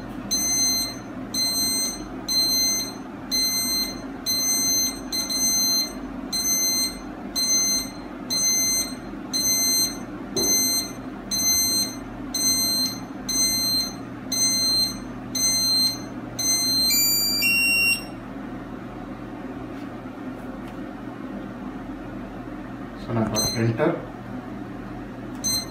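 An intruder alarm system siren sounds in a steady repeating pattern of shrill electronic beeps that stops partway through, leaving a low room hum before a brief burst of noise; someone talks throughout.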